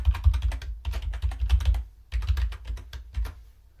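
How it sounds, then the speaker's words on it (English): Quick keystrokes on a computer keyboard enter a username and password, clattering in two bursts with a short pause between, close and clear with no talking. "all I have to do is type in my user and password"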